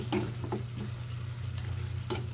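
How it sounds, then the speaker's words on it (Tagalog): Chicken adobo with bay leaf and black pepper being stirred in a pan, close scraping and clinking strokes over a low sizzling hum, no talk. "Ayan ang halo natin sa niluluto natin ngayon."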